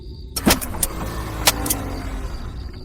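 A car key rattling and turning in the ignition, followed by a few sharp clicks and thumps with no engine catching, close and otherwise quiet.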